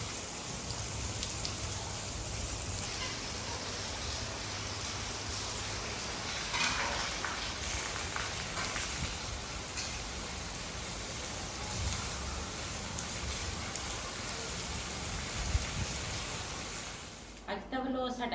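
Rain falls outside a village home in Pathani, producing a steady, continuous hiss throughout. A short clatter of movement comes near the end.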